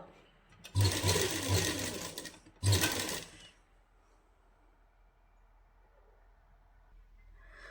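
A sewing machine stitches a straight seam on a salwar in two loud close bursts, the second shorter, then stops, leaving quiet room tone.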